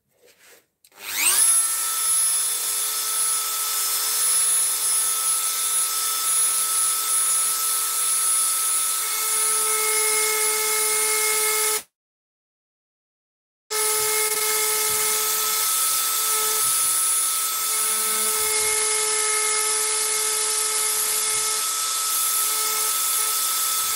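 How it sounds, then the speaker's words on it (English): Rotary carving tool fitted with a small diamond tip grinding detail into a cedar wood carving of a woman's face, a loud steady high whine running continuously, cutting out briefly partway before resuming. "I just changed that over to a wee tiny diamond tip, just to do these wee detail cut here and here and in the lip"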